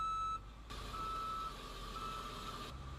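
Reversing beeps from an emergency response vehicle backing up, a steady high-pitched alarm tone sounding over a low engine rumble at moderate distance, no talk.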